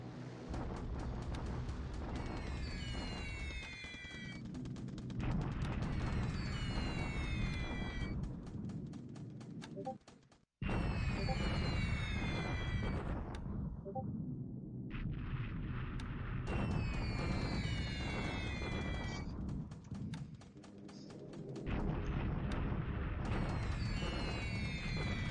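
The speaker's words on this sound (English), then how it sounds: "the flak is strong here" Anti-aircraft flak fire in War in the Pacific: a loud, sustained roaring barrage that runs continuously with a couple of brief gaps, with no voices.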